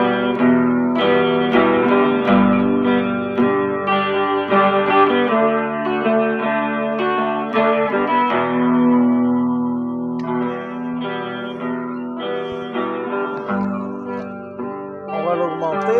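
A clean electric guitar loop plays with its effects removed, sounding clear and steady as melodic notes repeat over a sustained tone.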